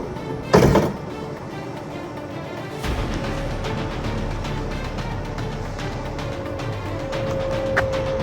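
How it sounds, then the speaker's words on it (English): A Toyota Sienna hybrid's power sliding door thunks open, then a steady mechanical hum runs as the VMI in-floor wheelchair ramp deploys and the vehicle lowers, with a faint whine throughout. "This is going to open the door, deploy out the ramp, and it will also lower the vehicle."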